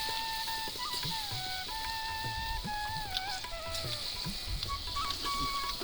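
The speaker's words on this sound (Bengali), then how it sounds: "ওই পুরি ভাজার তেলেই আমি তালের বড়াগুলো ভেজে নেব।" Palm fritters frying in hot oil left from frying puris, a continuous bubbling sizzle with faint clinks and a thin tonal hum running beneath it.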